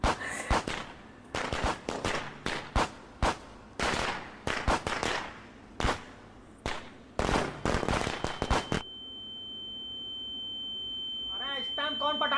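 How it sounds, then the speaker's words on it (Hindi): Firecrackers burst for Diwali in a rapid irregular string of sharp loud cracks, then the popping stops and a thin steady electronic tone lingers with faint voices near the end. "कौन पटाखे फोड़ता है बे?"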